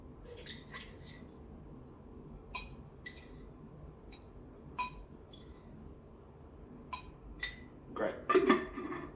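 A spoon clinks against a cup while stirring sugar beside a Breville Dual Boiler BES920 espresso machine, sharp faint taps scattered over several seconds above a low machine hum, with a louder cluster of rattling clinks near the end.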